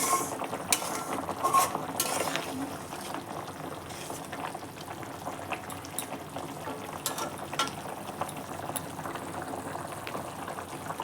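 Stinging catfish and egg frying in a pan give off a soft, steady sizzle and bubbling crackle, quiet and continuous with no voices.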